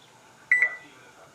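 An oven timer sounds two short electronic beeps in quick succession, close and clear against a quiet kitchen background while peanut butter brownies bake for 30 minutes.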